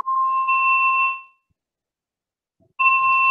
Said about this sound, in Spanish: Sonó la campana es porque terminó el round.